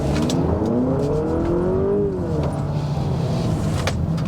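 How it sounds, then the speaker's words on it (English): A 2023 Honda Accord Touring Hybrid pulls away from a standstill, its engine note rising steadily in pitch for about two seconds before leveling into a sustained drone with road and wind noise. "this is not going to be a real acceleration test, but let's see how quickly it gets off the line"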